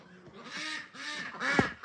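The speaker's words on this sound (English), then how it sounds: "Oh yes, ducks, I hear you." Several ducks on a homestead quack close by in a run of raspy, repeated calls, with some louder honks near the end and no human talking.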